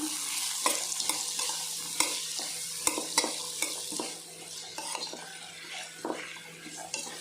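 Chicken fried rice with soy sauce and chilli sauce being tossed and stirred in a hot pan, busy scraping and clinking of utensil on metal over a constant bright sizzle, close and continuous with no speech.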